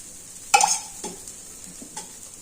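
Rice flour roti frying in oil on a pan, a faint sizzle broken by a few sharp utensil clinks against the pan.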